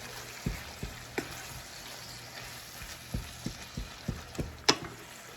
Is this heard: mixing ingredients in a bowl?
yes